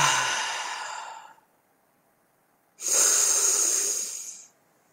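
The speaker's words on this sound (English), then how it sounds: "Breathe out." Two long, deep exhaling breaths, close and clear, the first fading out over about a second and a half and the second following after a short silence, with no talking.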